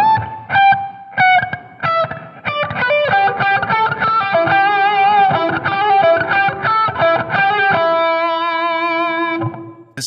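A distorted electric guitar plays a quick run of picked and hammered notes from a solo, ending on a sustained, wavering held note that fades out.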